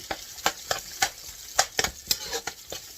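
Garlic and onion frying in a pan for dinuguan, a Filipino black stew, with a steady sizzle under a run of sharp, irregular stirring and scraping clicks, close and moderately loud.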